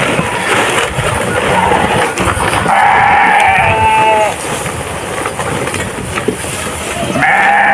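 A herd of over a hundred goats and sheep on a farm bleat loudly, several overlapping calls rising above steady outdoor background noise.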